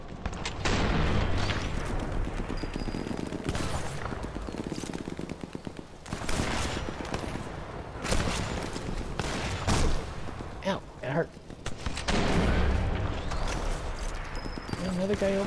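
Gunfire in Sniper Elite 4 comes as repeated sharp bursts and single cracks spread across the stretch, mixed with game ambience and scattered impacts.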